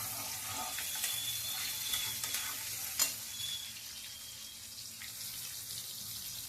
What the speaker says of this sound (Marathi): टोमॅटो आणि जिरं आपण त्या तेलामध्ये फ्राय करून घेऊया